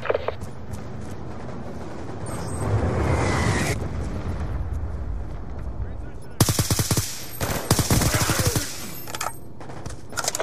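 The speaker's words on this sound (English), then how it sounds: "Hellstorm missile inbound." Heavy gunfire and a missile strike in Call of Duty Black Ops 2 multiplayer, with a rumbling blast and dense noise early on, then sharp rapid bursts of automatic fire up close in the last few seconds.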